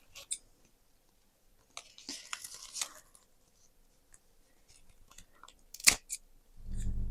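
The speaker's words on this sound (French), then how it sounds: "Et je vais couper, du coup." Scissors snip through material while finishing an apartment's decoration: a few short, crisp cuts close by, with quiet gaps between them and a low rumble at the very end.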